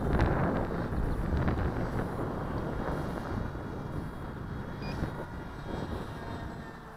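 Steady wind gusting to about 15 buffets the microphone in a continuous low roar, with gusts swelling and easing and a faint aircraft engine drone far behind.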